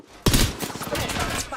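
Video game gunfire erupts suddenly after a brief quiet moment, a dense, loud fusillade of overlapping shots and bursts that continues steadily to the end.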